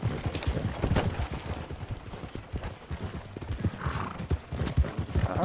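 Horses gallop in Red Dead Redemption 2 during a snowy winter endurance race, a rapid, rhythmic pounding of hooves up close with a neigh and some distant gunshot-like cracks in the mix.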